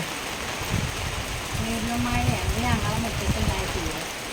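Heavy rain during the Onam season in Kerala, a dense steady hiss of downpour running throughout while people talk over it.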